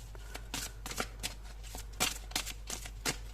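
Oracle cards are shuffled by hand, a series of quiet crisp riffling bursts at irregular intervals over a low steady background hum.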